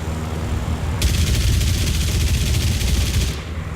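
Rapid cannon fire from a vehicle in War Thunder, a dense stream of repeated shots for a couple of seconds over a steady low engine rumble, loud and close.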